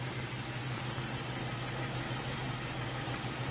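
Car engine idling steadily with a knock near the timing cover, heard as a constant low hum and broadband mechanical noise through a probe, faint and with no talk.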